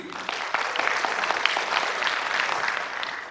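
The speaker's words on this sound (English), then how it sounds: "a big clap for them" An audience at a South Asian youth summit claps for the speakers, a brief burst of steady, fairly close applause from a crowd.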